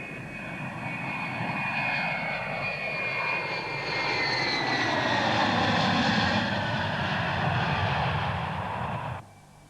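A charter aeroplane from Moscow arriving in Bratsk, Siberia, its engines roaring loud and steady with a sweeping whine that swells and shifts, cut off abruptly near the end.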